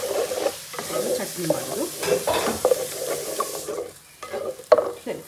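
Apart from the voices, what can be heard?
dry fish frying and being stirred in a pan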